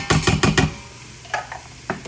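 Cauliflower searing in a hot pan for cauliflower alfredo: a quick run of loud sizzling, clattering bursts at the start, then a few fainter scrapes and hisses.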